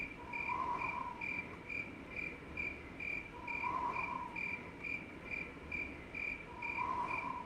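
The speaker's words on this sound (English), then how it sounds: "Fucking leaving us with this fucking annoying cricket." A cricket chirps steadily in the video game I Have No Mouth and I Must Scream, an even, repeating pulse of shrill chirps over a low ambient hum, with no voices.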